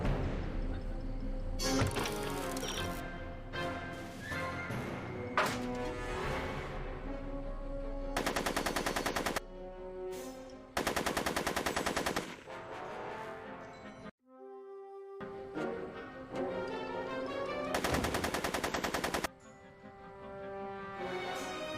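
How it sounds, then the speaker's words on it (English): Gunfire in the Back to the Future: The Game video game, heard as loud bursts of rapid shots repeating across the scene over a continuous game soundtrack, with one brief dropout near the middle. "Are you shooting at me?"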